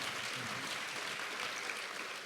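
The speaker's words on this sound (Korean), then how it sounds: "여러분 다시 한번 뜨거운 박수로 환영해 주시기 바랍니다." Audience applause welcoming three pastors onstage at a Christian media conference, a steady dense wash of clapping that holds evenly for the whole stretch with no voices over it.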